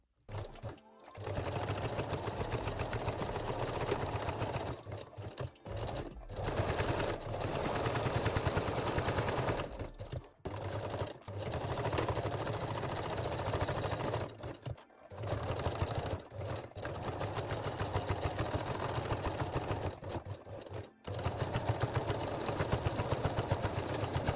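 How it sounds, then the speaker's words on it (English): A sewing machine runs in quick rapid-fire bursts while zigzag stitching the sides of a lace bralette closure, loud mechanical chatter broken by brief stops every few seconds. "I use small zigzag stitch on the sides and then straight stitch"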